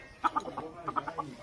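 An old desi hen clucks in a quick series of short, clear, nasal pulses, close by and fairly soft, over a quiet background.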